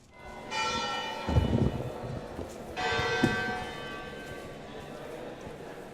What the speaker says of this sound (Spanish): su campana, llamada la cabra, marcó las horas de las clases y del estudio